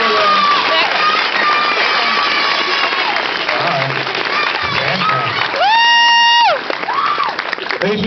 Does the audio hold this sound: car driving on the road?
no